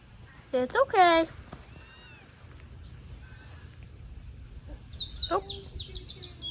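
Kittens mew in short, high, rising cries, first a quick cluster of calls close by, then a string of thinner chirping mews a few seconds later over a quiet room.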